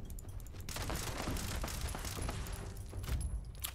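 Gunfire in the Fallout 76 video game, with a fairly quiet run of rapid shots and thuds rattling through a dense, noisy background.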